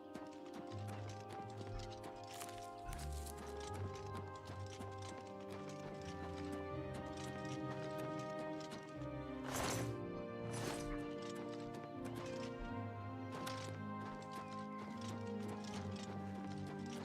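Steady clip-clop of video game horse hooves plods along under a busy layer of game music and ambience, quiet overall, with a few sharper knocks midway.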